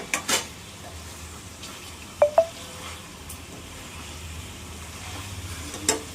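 Chicken curry is stirred in a pan over a faint, steady sizzle, with a few sharp spoon-on-pan clinks standing out.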